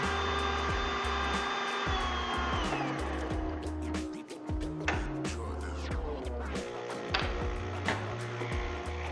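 A Gaggia Anima coffee machine's grinder, fitted with a used replacement after repair, runs with a steady loud mechanical whir and rattling grinding bursts throughout, without talk.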